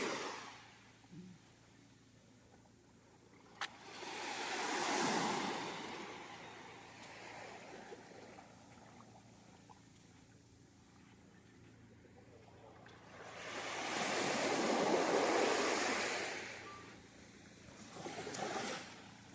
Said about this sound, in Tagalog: Ito po ay karugtong po ng Pacific Ocean.